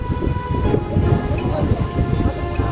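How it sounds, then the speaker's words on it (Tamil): A thunderstorm with heavy rain and a powerful whirlwind in Thoothukudi makes a dense, continuous low rumble and rushing wash of rain and wind, steady and loud throughout the clip. "பயங்கரமான சுழல் வருது மேலே இருந்து கீழே வரைக்கும்"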